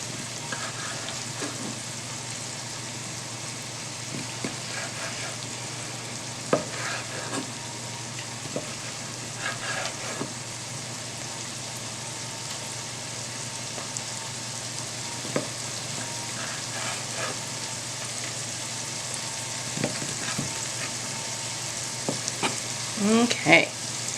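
Cabbage and peppers frying in a pot give a steady sizzle, with occasional scrapes and clacks of stirring scattered throughout, close and moderately loud, with no talking.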